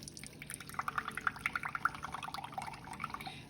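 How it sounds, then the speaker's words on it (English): A can of evaporated milk is poured into a skillet for baked mac and cheese, a steady liquid pour with small gurgling splashes throughout, close and fairly quiet. "Actually, I'm just going to pour the whole can in."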